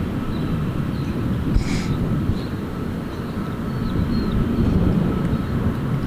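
Van's RV-7 light aircraft at an airport. A steady, broad engine drone holds throughout at moderate distance, with wind buffeting the microphone.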